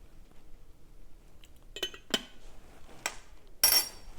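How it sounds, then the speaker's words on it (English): A spoon stirs tea in a cup, giving a few sharp metallic clinks against the rim spaced over a few seconds, close and fairly quiet, with no talking. "Our tea is ready. Give it just a little stir."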